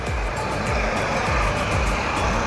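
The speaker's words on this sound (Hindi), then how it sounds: "गाड़ी जा रहा है, सिग्नल में ऑटो रुका हुआ है" Traffic at the EM Bypass junction in Kolkata, with an auto-rickshaw waiting at the signal: a dense, steady roar of vehicles passing nearby, with low engine swells coming and going.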